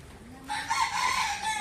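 A rooster-like bird crows once in a zoo, a single drawn-out call that rises and holds for about a second, fairly close and clear over quiet background.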